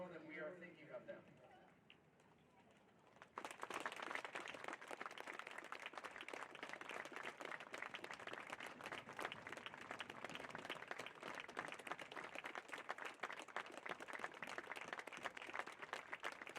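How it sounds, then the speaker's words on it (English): A minute of continuous applause at a football match: after a few quiet seconds with a voice, dense crowd clapping starts abruptly and keeps going steadily and evenly to the end. "we ask for 1 minute of continuous applause to display our strength"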